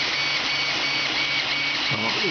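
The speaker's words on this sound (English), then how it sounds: "So if you set your printer up properly, somewhat like you see here, then it has to print." An Ender 3 3D printer hums and whirs steadily as it prints, its stepper motors and fan making a continuous mechanical drone, with a brief rising motor sweep near the end.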